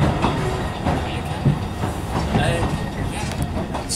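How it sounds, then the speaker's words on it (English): Talyllyn Railway steam locomotive Sir Handel running on a wet, misty day, a steady clattering rumble of the moving train with faint rhythmic wheel clicks, heard close and continuous under a little background talk. "Let the final train ride begin."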